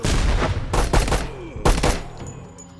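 A frag grenade thrown in a Door Kickers 2 room assault, with several loud, sharp blasts and gunfire in quick succession that fade into a quieter tail.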